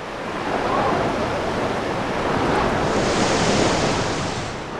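Steady roar of Kara Sea waves washing and breaking, broad and continuous with wind-like hiss, fairly loud and close throughout.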